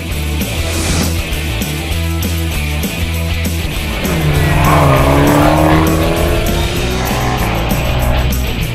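Loud Abarth race cars roar past at high speed on a racetrack front stretch, engines whining and shifting through gears, with a sustained high-pitched drone throughout.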